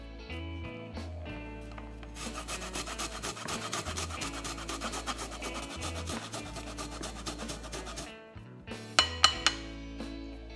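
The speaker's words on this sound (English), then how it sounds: "Grate some ginger over it." Ginger grated over a bowl of minced pork gives a steady dry rasping that scrapes on for several seconds beneath background music.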